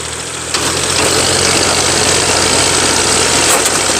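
A car engine is held on the throttle to keep it from stalling in first gear. After a brief pause it runs at a loud, steady, throaty drone, close by and unbroken, with no speech.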